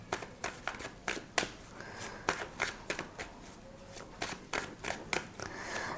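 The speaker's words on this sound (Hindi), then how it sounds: "एक एक कार्ड निकालते हैं" Tarot cards being shuffled and drawn one by one, giving a run of crisp riffling snaps and papery flicks in irregular bursts, close and fairly loud with no talk.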